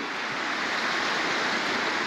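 Water pours steadily over a creek spillway beside a bridge, a close, loud, continuous broadband rush with no letup.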